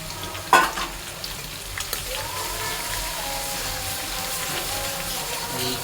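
Minced garlic and julienned ginger hit hot oil as the sauce base for a fish hotpot, starting with a sharp clatter and settling into a steady, even sizzle that carries on close by with no talking.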